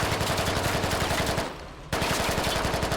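Rapid automatic gunfire rattles in tight bursts during a Squad Ops building-clearing fight, loud and close, with a brief lull before the shooting resumes.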